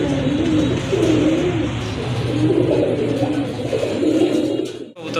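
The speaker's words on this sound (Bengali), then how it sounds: "রাজগোল্লা কবুতর, মাশাআল্লাহ খুবই সুন্দর কবুতর, অনেক বড় সাইজের কবুতর" Raj Gola pigeons cooing close by, soft low rolling coos repeating in waves over a steady background hum, with no speech.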